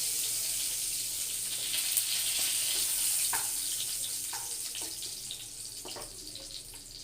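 Cumin seeds and a bay leaf sputter in hot oil as a tempering for a Bengali dudh potol curry, giving a steady bright hiss scattered with small pops and crackles throughout, with no talking.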